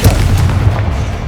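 Bombarda spell explosion in the Hogwarts Legacy video game, a loud, deep, rumbling boom that fills the short moment without any talk.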